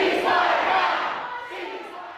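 Pro-Palestinian demonstrators massed outside a hotel where Justin Trudeau spoke at a private Liberal fundraiser, their loud dense chanting and shouting merging into a continuous crowd roar that eases slightly toward the end.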